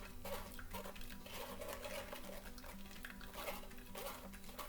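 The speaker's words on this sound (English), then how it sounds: "I will get my spoon, and then I will just start mixing it all up" A spoon stirs pomegranate pulp in a strainer, a steady close scraping and wet mashing that keeps up for the whole stretch, with light metallic clinks against the strainer.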